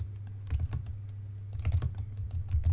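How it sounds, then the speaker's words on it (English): Someone types a location into a search box on a computer keyboard, giving quick, light key clicks in short bursts over a low steady hum, close and faint. "We can actually just type in"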